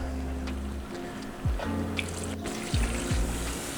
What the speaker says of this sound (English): you want to pour in your stock. So I'm going to do that right now